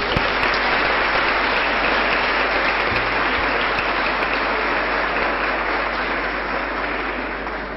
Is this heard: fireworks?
no